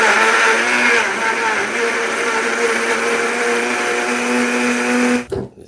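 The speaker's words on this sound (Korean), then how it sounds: "믹서하면 됩니다." A blender whirs loudly and steadily for several seconds, blending kiwi sauce, its motor droning at an even pitch before cutting off abruptly.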